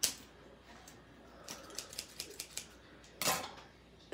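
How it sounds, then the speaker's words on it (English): Scissors snipping through the thin metal piece on an iPhone during a repair, a quick series of about five or six small crisp clicks, then one louder sharp snip, close by with no talking. "you can, in fact, just get scissors and cut off the metal like a normal person"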